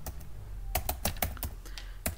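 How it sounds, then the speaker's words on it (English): Rapid keystrokes on a computer keyboard as a command is typed into an Ubuntu 20.04 terminal, a quick run of close, crisp clicks, roughly seven taps in an irregular burst with no talking. "simply type here"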